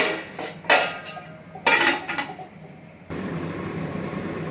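Fish pieces dropped into a hot pan of oil for frying, with a few clattering clinks of cookware followed by a steady, close sizzle that rises and holds to the end.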